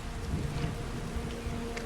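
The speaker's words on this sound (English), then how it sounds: "The terrain looks unstable with all this rain." Steady rain falls across a rugged ridge in the Skyrim video game, a continuous even patter of rainfall heard alone with no voices.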